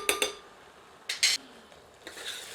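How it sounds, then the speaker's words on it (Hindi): Ginger-garlic paste stirred into browned onions in a pan, a few short scraping and clinking spoon strokes against the metal in quiet bursts, with only a faint sizzle between them. "मिलाकर 1 मिनट मध्यम आंच पर भूनते हैं।"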